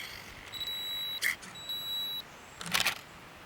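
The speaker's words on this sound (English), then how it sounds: "The camera beeps when the 2-second timer starts, beeps again after 1 second," A Nikon D40 camera's 2-second self-timer gives two sustained electronic beeps about a second apart, each followed by a mechanical shutter click, the last a louder double clack, close by.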